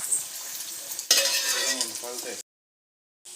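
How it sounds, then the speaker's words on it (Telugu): Potato fries frying in hot oil, a dense steady sizzle with stirring clatter that swells louder midway, then cuts to silence before a brief return. "గోల్డెన్ బ్రౌన్ కలర్ వచ్చేలాగా వేయించుకుందాం."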